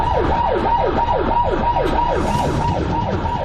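Ambulance siren wailing in a steady, repeating up-and-down sweep, loud and close, carrying a patient into an emergency room, with road and engine rumble underneath and no talking.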